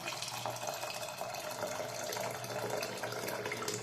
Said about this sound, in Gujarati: તો પહેલાં પાણી એમાં એડ કરી દેવાનું.